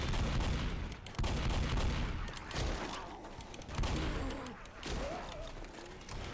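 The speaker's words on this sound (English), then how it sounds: "Bill's goated gun." Rapid, continuous gunfire from Bill's gun in Left 4 Dead crackles in dense bursts with brief pauses, fairly loud and close, with faint voices mixed in underneath.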